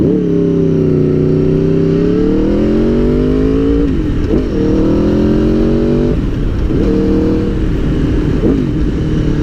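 A motorcycle engine revs hard and loud, climbing in pitch, then drops and climbs again at each gear shift, up through several gears with no talk.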